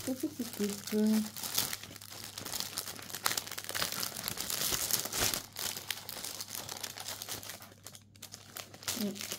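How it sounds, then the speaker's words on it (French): Paper crinkles and rustles almost continuously while a taped package is folded shut, with tape sticking along the edges; near and moderately loud, with brief tearing-like bursts and a few short vocal sounds at the start and end. "Désolée pour le bruit du papier"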